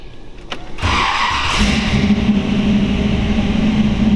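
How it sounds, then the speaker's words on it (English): A 1932 Ford Roadster with a GM 350 TPI V8 and 2-inch exhaust starts indoors in a building: a short cranking whir, then the engine catches and settles into a loud, steady, rumbling idle. "I'm going to fire it up so you can hear it run"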